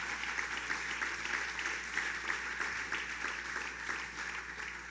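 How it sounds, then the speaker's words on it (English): A crowd at an outdoor state tourism launch applauds the local elected officials, a sustained even roar of clapping from many people, distant and unbroken, easing slightly toward the end. "Let's give them a round of applause."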